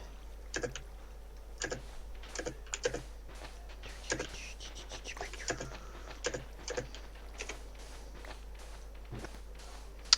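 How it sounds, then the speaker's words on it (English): Typing on a computer keyboard comes as irregular bursts of crisp clicks and clacks, some close together and some spaced apart, over a low steady hum. "Is my typing loud?"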